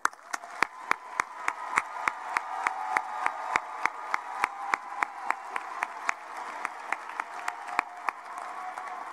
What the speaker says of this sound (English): Please join me in applauding the class of Fall 2017 graduates.